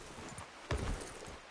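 Horse hooves in Red Dead Redemption 2 clip-clopping on the ground: a few soft, close steps with one firmer thud in the middle, fairly quiet, no talking.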